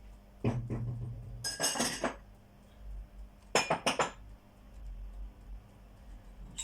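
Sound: unloading dishes from dishwasher

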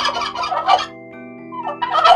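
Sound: turkey gobbling

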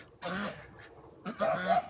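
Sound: geese and ducks honking going into their shed

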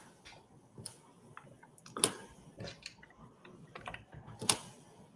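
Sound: typing on a computer keyboard

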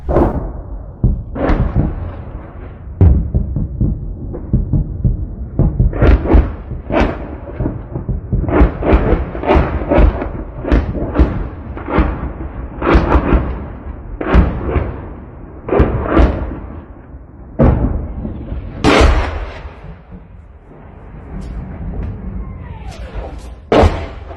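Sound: explosions from Russian shelling of Kherson

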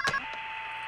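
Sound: telephone ringing

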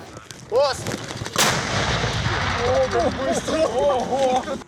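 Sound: Iranian mortar firing

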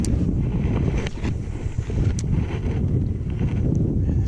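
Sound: wind blowing while bass fishing

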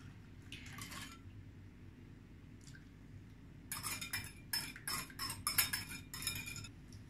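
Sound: stirring sugar into warm milk

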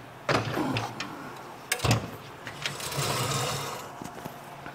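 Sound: clamping a part onto a shaker table

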